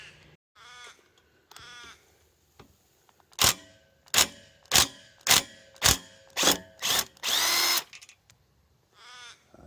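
A new impact driver drives a bolt into play equipment with a quarter-inch socket, letting out a run of about eight loud, sharp hammering bursts in quick succession and ending in one longer rattle, with short quiet gaps and faint background sounds around them.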